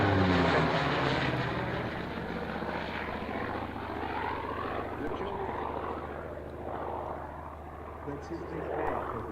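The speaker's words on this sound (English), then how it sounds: "looking at all the aircraft that are taking off again" Aircraft take off at the Duxford air show with a steady, loud propeller-engine drone that swells and fades slightly. It sounds close and fills the whole stretch.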